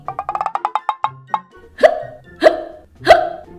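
A woman hiccups repeatedly as a sound effect in a Hindi mother-in-law and daughter-in-law story: a rapid run of about a dozen short hiccups, then three louder, more drawn-out hiccups, close and alone with no talk.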